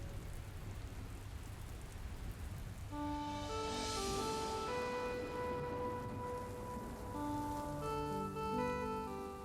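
Steady rain pours down throughout, and partway in, sustained bell-like musical tones ring out over the downpour.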